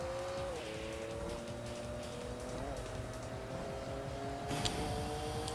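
A tuned import car in a racing video game roars steadily near at high revs, with several gear-change dips, then a sharp hissing surge of nitrous near the end.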